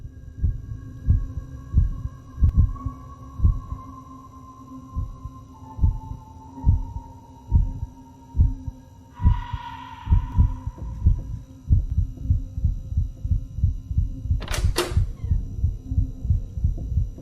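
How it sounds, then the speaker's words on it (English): A steady, throbbing heartbeat in a video game pulses in a regular low double-thump over a constant hum, with brief tonal game sounds and a sharp high burst near the end. "Dude, I need to find this heartbeat."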